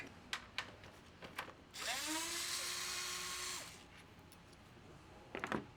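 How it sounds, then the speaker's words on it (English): A small cordless power tool with a 10mm socket spins out a bolt on a Tesla HEPA filter box, a steady whirring burst of about two seconds between faint clicks and handling taps, close and fairly quiet. "So I've just got my little cordless tool out with the 10mm socket."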